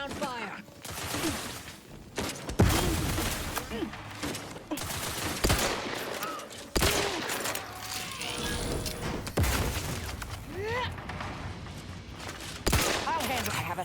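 Rapid automatic gunfire from a firefight in The Outer Worlds 2, loud repeated bursts and sharp volleys, with voices talking over the shooting.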